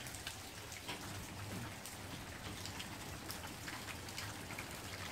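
Rain falls steadily outdoors, a dense hiss of drops with scattered sharper patters on surfaces, faint and even throughout.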